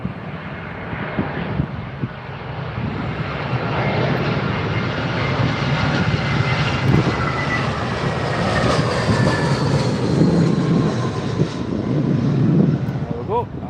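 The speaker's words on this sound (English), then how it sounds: "here comes the British Airways A320" A British Airways Airbus A320 lands at Heathrow, its engine roar steady and loud throughout with a broad rushing whine that swells slightly toward the end.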